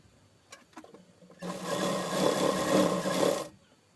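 Sewing machine stitching the shoulder seams of a frock made from a saree, a steady close whirring run of about two seconds after a few faint clicks.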